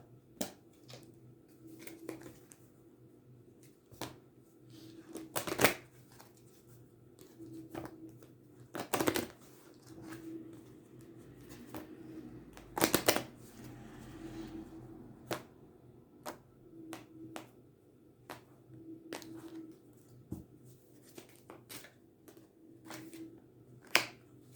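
Tarot cards shuffled and handled on a table, sharp irregular snaps and clicks scattered over a quiet background, with occasional louder slaps of cards.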